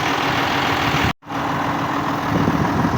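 A John Deere 6610 tractor of 115 horsepower runs steadily at idle, a loud continuous engine drone with one brief dropout near the middle before the sound resumes unchanged.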